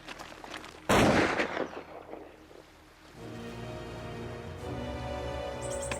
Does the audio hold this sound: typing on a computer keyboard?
no